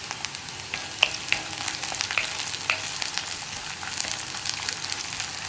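Curry leaves and dried red chillies sizzle in hot oil for parippu (dal) curry, a steady close crackle with sharp pops and spits scattered throughout, no voices.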